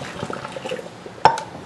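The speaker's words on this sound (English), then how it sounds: "I put cold water in and it makes it easier to peel." Cold water pours into a pot of eggs to make them easier to peel, heard as a close liquid splash and gurgle with a few clinks of dishes.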